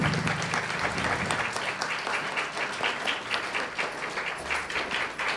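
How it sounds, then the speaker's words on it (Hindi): A crowd applauds at a Sahaja Yoga program in Ludhiana, Punjab: steady, dense clapping from many hands that continues evenly throughout, heard from a moderate distance. "सभी भाई बहनों के लिए जोरदार तालियां एक"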